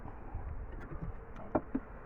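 Honey bees hum around a top bar beehive, a low, faint drone with a few sharper ticks and bumps close by near the end.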